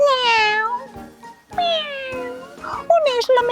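A storyteller's voice imitates a cat for a Catalan children's tale about a greedy goat, with drawn-out, wavering meows in three phrases, loud and close, the last one broken into short mews.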